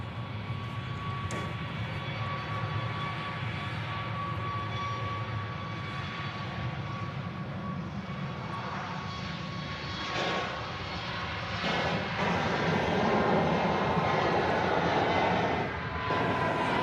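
An airliner at Nashville International Airport drones steadily with a whining jet engine tone, a continuous roar that swells louder near the end, heard from a distance with no talk.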